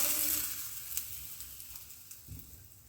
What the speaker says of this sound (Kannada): ಇವಾಗ ರೆಡಿ ಮಾಡ್ಕೊಂಡಿರೋ ಚಟ್ನಿಗೆ ಒಗ್ಗರಣೆನ ಹಾಕ್ಬಿಡೋಣ